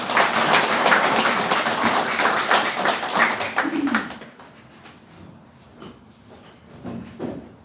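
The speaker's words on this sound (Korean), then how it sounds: "여러분 박수로 환영해 주시기 바랍니다." A crowd claps in welcome at a Korean party provincial chapter meeting, with dense, steady applause for about four seconds that then thins into a few scattered claps.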